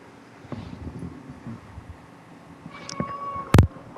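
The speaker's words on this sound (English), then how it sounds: "It was a cat interruption." A house cat meows during an indoor recording session, a short harmonic cry rising near the end over quiet room noise, with faint earlier rustling.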